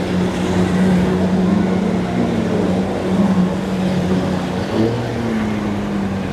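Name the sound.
charter boats motoring back in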